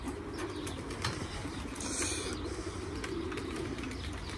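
Wings flap in short bursts inside a pigeon coop, soft and somewhat distant, with faint cooing and chirps in the background and no talking.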